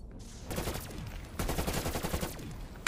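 Gunfire from the Call of Duty Cold War Zombies video game comes as two rapid bursts of shots, loud and close, separated by a short lull, with no talk.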